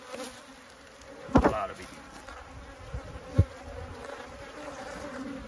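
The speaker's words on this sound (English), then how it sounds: "Bees are attacking the camera real good." A swarm of feral honey bees buzzes around the camera at a packed swarm trap, a dense, steady drone close by with a few sharp knocks and bumps against the lens.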